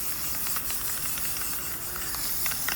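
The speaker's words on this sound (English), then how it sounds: "now I'm gonna do guide coat. Just spray paint." A steady, close aerosol hiss runs unbroken throughout, a continuous bright spray of guide coat from a spray paint can, with slight flutters near the end.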